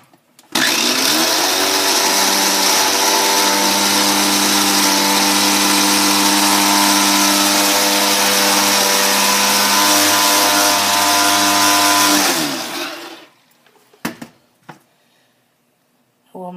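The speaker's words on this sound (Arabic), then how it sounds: "تطحنيه برضو في الخلاط." An electric blender grinds creamy face mask ingredients, a loud, sustained whirring motor that runs steadily for about twelve seconds, then winds down and stops, followed by a few faint clatters.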